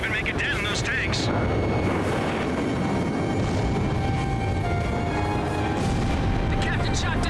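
Gunfire and explosions from the Ace Combat 5 video game, with rapid machine-gun bursts, heavy booms and aircraft roar tumbling over each other in a dense, continuous barrage.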